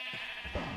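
A single short sheep bleat in Minecraft Oceanblock, wavering and fairly clear, heard alone over a faint background.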